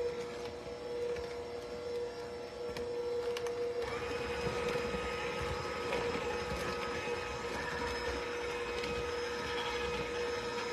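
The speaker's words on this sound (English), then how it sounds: "let's mix this together" Batter for a Butterfinger bundt cake being mixed: a steady mechanical whir that shifts to a higher, brighter pitch partway through and keeps running evenly, with no talking.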